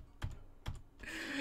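Computer keyboard typed during a session of the Apple II game Wizardry: two distinct clacking key bursts close by, then a brighter rustling hiss to finish.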